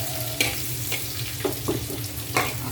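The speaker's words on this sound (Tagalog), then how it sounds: "Medyo papulayin natin ng konti ang ating garlic" Garlic fries in hot oil in a kawali, a continuous close sizzle with a few brief stirring scrapes and taps against the pan, no talking.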